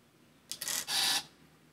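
Shutter release on a Ricoh RZ-750 35mm compact camera: a crisp near click followed by a short whirring burst of film-advance motor, alone in a quiet room.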